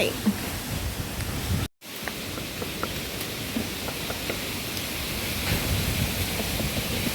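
Steady rain hisses continuously with scattered drops pattering nearby on a bamboo grove, cut by a brief gap of silence.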